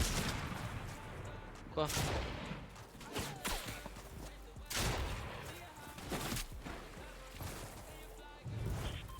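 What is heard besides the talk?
gunfire in the video game Fortnite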